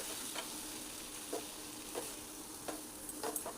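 Spice masala and drumstick vegetables sautéing in a pan over a medium-low gas flame, a faint, even sizzle with occasional soft spatula scrapes and taps.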